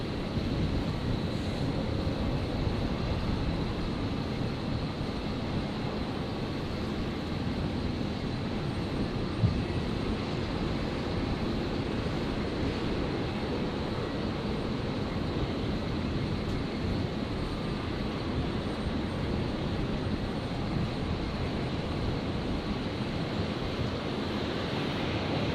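A Virgin airliner rolls down the runway for takeoff at Brisbane, a steady, broad jet roar heard at a distance that holds evenly throughout, with no one speaking.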